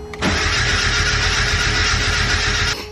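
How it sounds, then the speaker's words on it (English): A turbocharged Mazda Miata cranks over on a cold start, with a loud steady starter whir and rhythmic chugging lasting about two and a half seconds, close up, and the engine never catches. "But this is a cold start crank."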